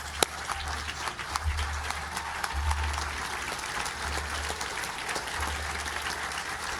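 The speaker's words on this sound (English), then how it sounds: "So let's give Martin a great, great round of applause." Sustained audience applause from a large crowd at a talk honoring Martin, steady dense clapping throughout with no voices over it.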